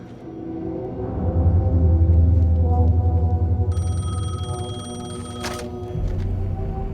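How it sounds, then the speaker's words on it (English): A telephone rings inside the Alan Wake 2 game, a steady electronic bell tone cutting in over a low droning ambient score, loud and close, with a brief sharp click near the end. "The phone was ringing."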